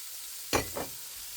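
Sliced yellow onions dropping into melted butter in a skillet give a short burst of sizzle and a second smaller crackle as they are stirred, set over a faint steady hiss, with no voices.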